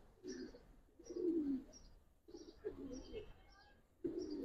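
Giribaz pigeons coo close by in a series of soft, throaty, repeated calls separated by short pauses.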